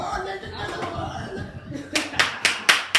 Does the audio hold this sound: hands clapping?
yes